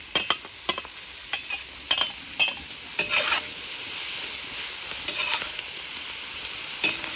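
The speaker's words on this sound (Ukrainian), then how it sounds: "І буквально трішечки потрібно піджарить цибулю до золотистого кольору." Onion fries in rendered pork fat with cracklings in a cauldron over an open campfire for Transcarpathian bograch, giving a steady sizzle broken by frequent sharp clicks and scrapes of a stirring spoon, close and with no voices.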